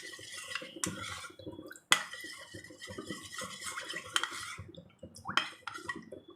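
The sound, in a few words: stirring cornflour paste in a bowl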